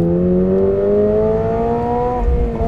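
Subaru BRZ STI Sport with sport mode engaged, its engine revving hard under acceleration on a public road: a loud, steady harmonic drone climbing in pitch for nearly three seconds, close and continuous with no talk over it.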